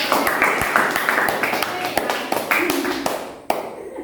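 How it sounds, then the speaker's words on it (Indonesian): Children in a primary school classroom clap together for a classmate, Peri C, during a lesson; a quick, rhythmic patter of many small hands, fairly close, with a few voices mixed in before it trails off. "Tepuk tangan buat Peri C."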